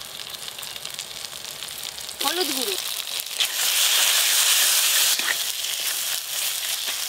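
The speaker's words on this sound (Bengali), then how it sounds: "মশলা কষা হচ্ছে এখনো মাংস কিন্তু পড়েনি" Spices frying and sizzling in oil left over from frying potatoes, with dried and green chillies, tomato, salt and turmeric, for a chicken curry before the meat goes in; a steady near hiss grows louder midway, under a voice speaking.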